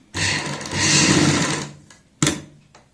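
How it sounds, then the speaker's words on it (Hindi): A sewing machine stitches a kurti neck with paper pasting, running in two quick bursts: a long steady whir, then a brief restart, close and loud with no talk. "यहाँ पे सिलाई लगाते हैं पेपर पेस्टिंग के साथ साथ"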